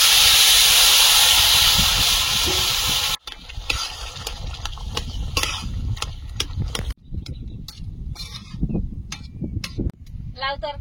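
Chopped bottle gourd hits a hot pan of oil with bay leaf, five-spice seeds and ginger, bursting into a loud continuous hiss for about three seconds, then settling into quieter crackling and stirring scrapes up close.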